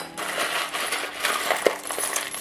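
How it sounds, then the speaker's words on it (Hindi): Tarot-style cards shuffled by hand for a reading, giving a dense, steady papery riffling close to the microphone for a couple of seconds, with one brighter snap near the end and no talking. "शफल कर लेते हैं, शफल शफल शफल"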